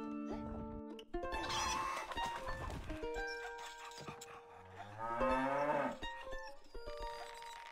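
Cattle moo repeatedly at a dairy farm in the strategy game Stronghold: Definitive Edition, loud lowing calls over busy game sounds and background music, with a long drawn-out moo near the end.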